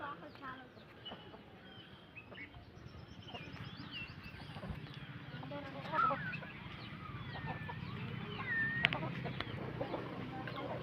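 Crossbred hens at a poultry sale cluck softly and intermittently, with a few sharper calls, against a low background of farmyard noise and some nearby speech.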